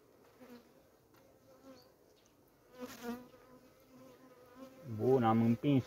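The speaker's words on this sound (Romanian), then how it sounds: "Să văd unde sunt mai multe albine aici." Honey bees buzz at an open hive while a caged virgin queen is added to a nucleus colony, a steady close hum that swells briefly midway and grows loud near the end.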